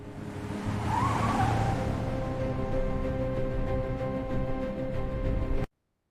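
A car speeds along with a steady engine roar and a brief tire squeal early on, heard close and loud throughout before cutting off suddenly at the end, with no talking.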